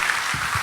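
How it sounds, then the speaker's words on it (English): Dense, steady applause from a conference audience at a hacking convention, loud and close, with no talk over it during the short burst. "Can we get a round of applause for Al Gore"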